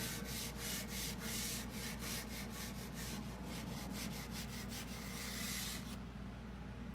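A paper towel dampened with a few drops of lemon oil rubs grease off a kitchen stove hood, making steady, rhythmic scrubbing strokes close up in a quiet room.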